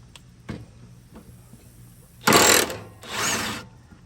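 A DeWalt 1/2-inch drive impact wrench running in reverse on the blade bolts of a Toro Titan Max mower, with two short, loud close bursts after some light clicks.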